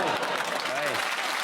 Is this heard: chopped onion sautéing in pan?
no